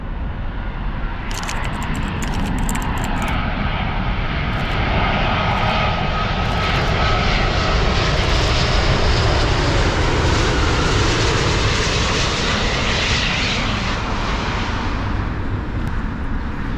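A Virgin Atlantic Airbus A350 jet airliner comes in to land, its engines a loud, continuous broadband roar that swells and holds steady throughout, with brief faint higher noises partway through and no talking.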